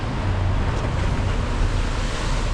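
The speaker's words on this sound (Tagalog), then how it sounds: "kung makikita nyo mga kapanyero, yung hampas ng alon" Ocean waves wash against the shore at La Jolla Cove in San Diego, a dense continuous roar of surf mixed with wind buffeting the microphone, loud and close with no voices.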